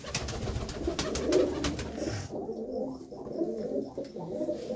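Pigeons coo nearby in soft, repeated throaty calls from their coop compartments, with light rustling and faint chirps around them.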